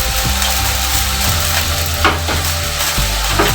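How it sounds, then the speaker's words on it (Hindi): Chicken karela masala with onions and spices frying in a pan, a loud continuous sizzle with a few scraping stirs and clanks of a utensil, close and steady with no voices. "इस तरह से इसको पानी ड्राई होने के बाद इसको इस तरह से भून लें"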